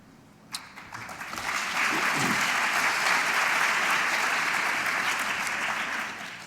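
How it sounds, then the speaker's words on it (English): Audience applause at a sugar tax panel discussion, a dense sustained clapping that rises after a brief quiet start, holds steady and loud, then tapers slightly at the end. "Some applause there, so I hope you're hearing that."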